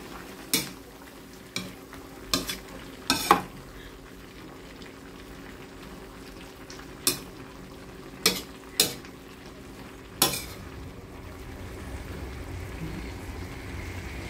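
Vegetables for Tagalog-style pinakbet with shrimp paste and seasoning being stirred in a pan, a spoon clanking against the metal in sharp scattered knocks over a steady low sizzle.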